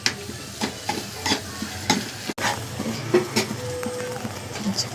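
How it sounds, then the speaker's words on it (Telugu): A pan of curry with garam masala is stirred, giving repeated scraping strokes over a low steady sizzle, close and moderately loud with no talk. "కొంచెం తిప్పుకోవాలి, కలపాలి."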